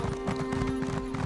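Spectral shadow horse from The Elder Scrolls Online clopping along at a steady gait, its hooves thudding in an even rhythm beneath a constant droning game soundtrack, with no talk.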